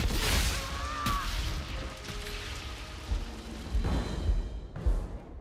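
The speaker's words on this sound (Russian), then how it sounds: "Огненные взрывы." Crackling, rumbling fire explosion spells from Dragon Age: Origins burst with a roaring wash, a sharp blast near the end, and faint music underneath.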